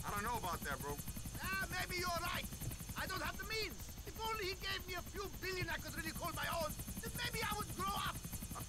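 A helicopter hovers in the air in the video game GTA IV: The Ballad of Gay Tony, its steady buzzing rotor drone running under someone talking throughout.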